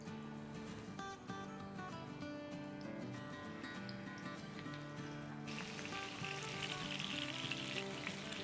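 Seekh kababs fry in a pan over low heat, giving a steady, close sizzle that grows brighter and more crackling toward the end, with faint tonal music-like bands beneath.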